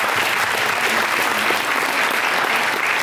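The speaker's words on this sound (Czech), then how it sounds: "Já bych zatleskal určitě, děkuju." Audience at a school anniversary talk show breaks into dense, sustained applause, loud and even from start to finish with no voices over it.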